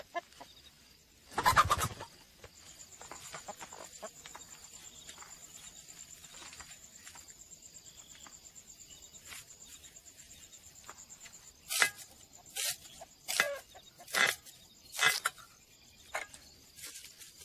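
A village rooster gives a loud close call near the start, then a run of short clucking bursts toward the end, over a quiet background with faint insect-like hiss.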